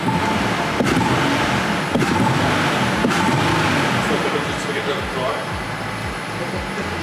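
A 2011 Nissan Murano engine idling steadily after a repair for a sticking throttle and stalling, a constant low hum with a few clicks and faint talk in the background.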